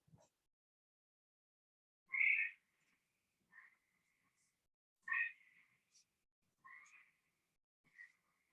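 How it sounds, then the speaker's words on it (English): A gray tree frog calls in a quiet setting, giving a handful of short trilled, warbling bursts spaced a second or so apart, each fairly clear and close. "to the gray tree frog, which sounds like this."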